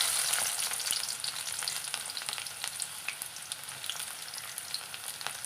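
Chopped shallots crackle and sizzle in hot coconut oil, a dense, steady frying hiss with scattered sharp pops that runs close and fairly loud from start to finish, with no voices.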